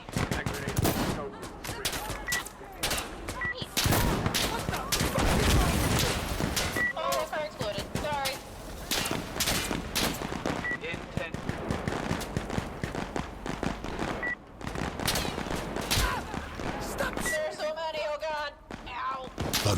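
Gunfire crackles through Insurgency: Sandstorm, with repeated rifle shots and bursts of automatic fire, some close and some farther off, while players talk over the fighting.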